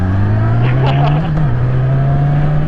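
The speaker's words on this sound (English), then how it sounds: "Careful with those downshifts." A 2021 Yamaha MT-07 motorcycle engine downshifting gives a steady, close, low drone that briefly rises and dips in pitch mid-clip, with rushing wind noise throughout.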